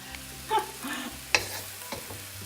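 Tempeh and vegetables stir-frying briefly in a wok, a soft, faint sizzle broken by a few light scrapes and taps of utensil against the pan, with no voices.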